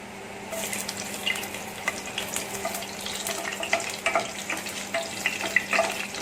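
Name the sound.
garlic frying in hot oil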